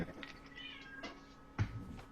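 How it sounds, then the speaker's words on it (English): A house cat meows several times nearby, with short, fairly faint calls spaced apart over a quiet room and no talking. "It's cat time."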